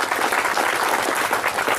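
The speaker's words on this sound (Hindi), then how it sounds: "एक बार जोरदार ताली हो जाए" Loud, sustained applause from an audience at a business plan show celebrating an anniversary, a dense, steady wash of clapping throughout with no talk.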